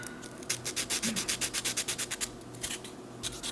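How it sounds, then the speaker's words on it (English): Sanding a miniature Ironclad Dreadnought model: a close run of about a dozen quick, even rasping strokes in a steady rhythm, briefly pausing and then resuming, with no voices. "Let's sand some of this down."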